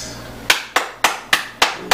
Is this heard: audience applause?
yes